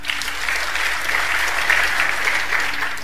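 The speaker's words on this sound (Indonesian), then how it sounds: "Kalau Anda setuju, Anda tepuk tangan." Audience at a Tuesday church Bible service breaking into steady, sustained applause, dense clapping from many hands held at an even level for about three seconds without speech.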